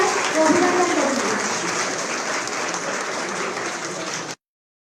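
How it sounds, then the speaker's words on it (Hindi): Audience at a school event in Almora claps to welcome guests: a steady, moderately distant wash of many hands that holds evenly for about four seconds, then cuts off abruptly. "कृपया जोरदार तालियों से हम सभी का स्वागत और अभिनंदन करेंगे।"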